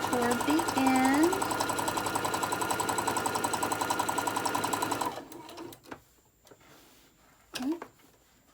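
A home sewing machine runs a fast, even rattle of needle strokes while back stitching a fabric mug rug, stops partway, then gives a few brief mechanical clicks and whirs, with a short vocal sound near the end.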